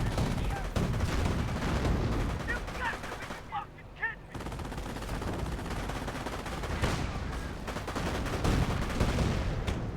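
Constant gunfire at a base in the Company of Heroes strategy game, dense machine-gun bursts and explosions rolling through nearly the whole stretch, with a short lull and brief radio-style voice chatter in the middle.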